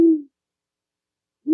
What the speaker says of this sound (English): Oh, that was a great horned owl hooting.